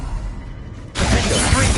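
A loud, sudden blast bursts in after a quieter moment, a single heavy shattering impact from the Bombarda spell in Hogwarts Legacy, sustained and close.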